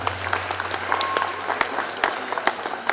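An audience at a road-safety month event applauds, sustained clapping from a sizeable crowd with a few sharper individual claps standing out, over a low steady hum.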